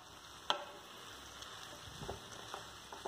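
Onions and garlic cloves are stirred as they fry in a pan, with a faint, quiet sizzle, a sharp clink of a utensil early on and a few soft scraping stirs later.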